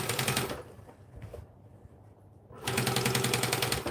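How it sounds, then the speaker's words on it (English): A sewing machine stitches binding straight on without clips, running in two quick bursts of rapid, rattling stitching separated by a pause of a couple of seconds. "I am just going to sew it on without clipping it"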